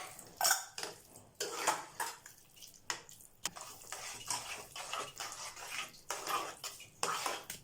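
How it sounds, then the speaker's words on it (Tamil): A spoon clinks and scrapes against a metal pot while curd rice with yogurt and milk is stirred, giving repeated irregular clatters and wet scraping with short pauses between strokes. "அதில் இப்போ இதை நல்லா கிண்டி விட்டுக்கலாம்."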